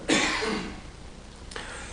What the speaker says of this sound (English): if I cough and hack a little today, I apologize